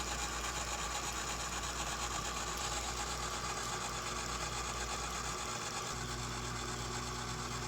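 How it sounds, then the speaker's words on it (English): A liquid pump runs steadily on a membrane cross-flow filtration unit, giving a constant mechanical hum and whir with a low drone that holds evenly throughout, close and alone with no talk. "Turn on the liquid pump."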